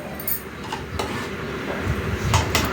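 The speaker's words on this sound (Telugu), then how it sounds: "ఇప్పుడు స్టవ్ మీద కళాయి పెట్టుకొని మూడు టేబుల్ స్పూన్ల ఆయిల్ వేసుకొని" A kadai wok is set on a kitchen stove with a few close metallic clanks and light clinks over low background noise, with no voices.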